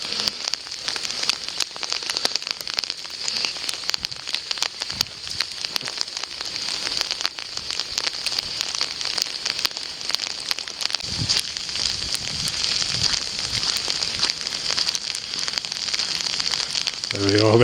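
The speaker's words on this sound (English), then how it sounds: "Here it comes, guys. Hailstorm at the moment." Hail falls on open moorland in wintry weather, a dense continuous crackling patter of hailstones striking surfaces, loud and steady throughout, with a brief voice near the end.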